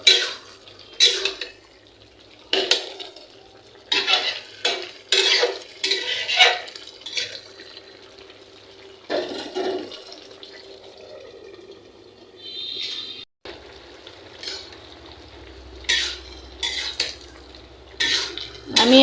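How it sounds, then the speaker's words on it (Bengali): A spoon clatters and scrapes against a cooking pot as bottle gourd with shrimp is stirred, with repeated sharp knocks in irregular bursts, close and fairly loud, with no talking. "আমি লাউটাকে ভালো করে একটু নেড়ে চেড়ে দেবো যেন তাড়াতাড়ি নরম হয়ে যায়।"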